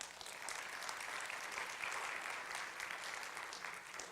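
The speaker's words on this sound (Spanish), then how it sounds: "Denle un aplauso al Señor." Steady applause from a church congregation during a Spanish-language sermon at a cathedral, a dense wash of many hands clapping that holds at an even level throughout, fairly distant and with no voices over it.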